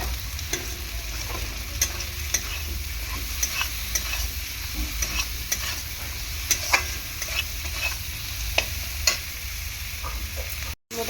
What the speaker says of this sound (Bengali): চিংড়ি মাছটা কিন্তু আমার ভাজা হয়ে গিয়েছে